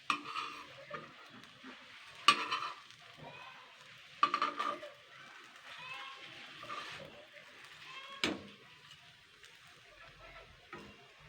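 Patishapta crepe with coconut filling frying in a pan, a low sizzle with occasional sharp clinks of a utensil against the pan, under a voice talking.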